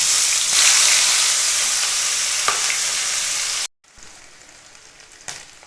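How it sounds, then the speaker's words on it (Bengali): Chopped onion, chilli and ginger-garlic paste fry in hot oil with a loud, hissing sizzle. It stops sharply for a moment, then returns quieter with a few stirring clicks. "পেঁয়াজ কুচানো, লঙ্কা কুচানো, আদা রসুন বাটা একসঙ্গে দিয়ে দেবো।"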